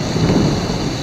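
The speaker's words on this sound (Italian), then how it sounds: "Sta anche tirando il tuono." A deep rumble of thunder rolls under steady rain, heavy and close, with no voices, at the Grotta Sciason cave.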